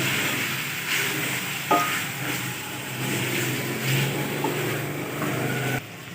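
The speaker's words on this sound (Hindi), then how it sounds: "सारे मसालों को अच्छी तरह से भून लेंगे।" Ground spices, including turmeric and coriander powder, fry for beef karahi in a pan as a steady broadband sizzle with a low hum beneath, continuous and fairly close throughout.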